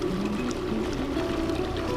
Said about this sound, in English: There's your water flow there.